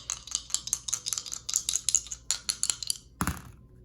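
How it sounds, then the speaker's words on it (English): Astral dice rattle and clatter in a rapid run of small hard clicks, ending with a firmer thunk as they settle on a surface, close and fairly loud with no talking. "Now I also want to roll the dice."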